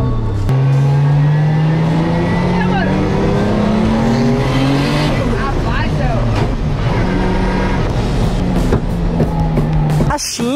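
A Porsche and a Nissan 350Z in a rolling-start street race, wheels spinning: loud engine revving climbs steadily through the gears, with tyre squeal and passing car noise, and people talk excitedly over it.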